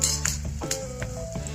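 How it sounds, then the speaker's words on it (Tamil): Onion vadagam, a sun-dried rice-flour crisp, fries in hot oil in a kitchen. A soft sizzle runs under repeated clinks of a metal utensil against the pan, with no talk. "என்ன அழகாக பொரியுது வெங்காயம்."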